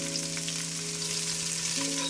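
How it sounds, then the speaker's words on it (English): Onions and garlic saute in a pan for Filipino pork rib kaldereta, giving a steady, close sizzle with a faint background hum and no talk. "Let's saute our onions."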